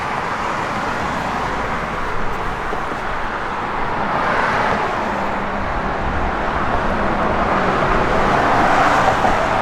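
A 2021 Dodge Challenger R/T Scat Pack Widebody with an aftermarket exhaust rumbles steadily outdoors, a continuous loud engine drone that swells slightly toward the end, with no voices.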